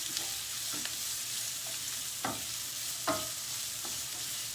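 Onion and a slit green chili fry in a pan with a steady, close sizzle, while a spatula scrapes and stirs in a few irregular strokes.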